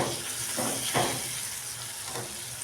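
Fish kadhai masala, with crushed cumin added, sizzles in a pan while being stirred, a steady hiss broken by a few scraping stir strokes, close and continuous without talk.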